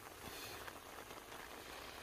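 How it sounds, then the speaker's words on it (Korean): Rain falling outdoors on a mountainside where wild greens are being gathered, a faint steady hiss of drops pattering on surfaces with no clear speech. "비는 왜 오는 거야?"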